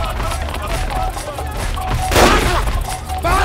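Gunfire in a Bhojpuri film scene, loud bursts of shots with a sharp crack near the middle over a busy soundtrack background.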